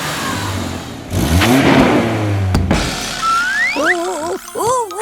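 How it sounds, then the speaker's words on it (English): Cartoon excavator engine revving loudly in a garage: a rising roar of revs, then cartoonish whirring and bouncy sound effects, close and bright, with no talk over it. "Let's have a nice loud rev."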